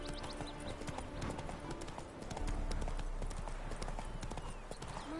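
Horse hooves clip-clopping in a steady rhythm as Roach is ridden in a PS4 video game, close and continuous over a bed of game ambience, with a faint whinny possible.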